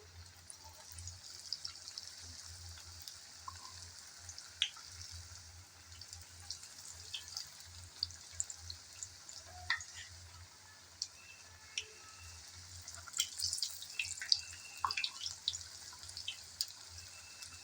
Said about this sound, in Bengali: আমি ডুবো তেলেই বানিয়ে নিচ্ছি।